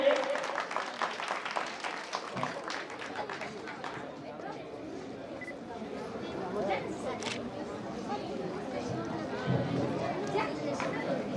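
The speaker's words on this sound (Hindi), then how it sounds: "एक भरपूर तालियां हमारे तमाम शेरों के लिए।" An audience at an award ceremony claps, with scattered rapid clapping and crowd chatter that go on the whole time, mixed with talking voices in the hall.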